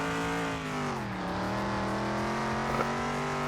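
A lowered car's engine drones in Car Mechanic Simulator 2021, holding a steady, loud tone. The pitch dips briefly, then climbs again as the car drives off, and no voices are heard.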